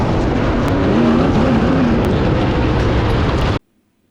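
World of Outlaws sprint cars roar as a pack at a dirt race, a loud, dense engine drone with a rising and falling pitch that holds steady for about three and a half seconds, then cuts off abruptly to near silence.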